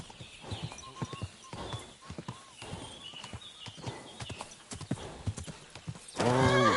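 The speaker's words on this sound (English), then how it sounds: "I've got a horse for you here." Horse hooves clip-clop in a steady walking rhythm in a medieval video game, with people talking over them, before a loud, close horse neigh bursts out at the end.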